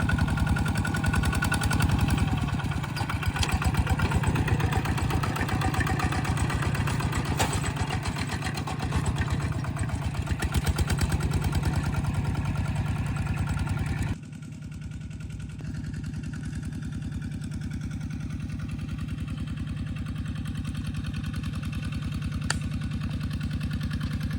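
Walking tractor engines chug in low gear, a loud, close, steady mechanical idle with rapid rhythmic pulsing that drops in level partway through and carries on more quietly; no talking.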